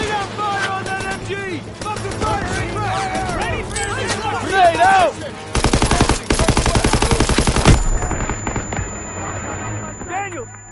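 Rapid machine gun fire in a Call of Duty war game, aimed at an enemy pillbox. Sustained bursts run loud for a few seconds amid other battle noise, with shouted voices earlier in the scene.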